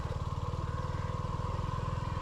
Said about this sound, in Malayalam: നമുക്ക് ഇതുവഴി വെറുതെ ഒന്ന് ബൈക്ക് ഓടിച്ച് ഇങ്ങനെ ഒന്ന് പോയിട്ട്